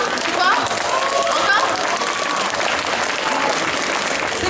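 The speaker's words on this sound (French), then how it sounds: "Vous êtes prêts à applaudir?" Audience at a cosplay contest applauds steadily and loudly throughout, a dense crowd of claps with a few cheers and shouts mixed in.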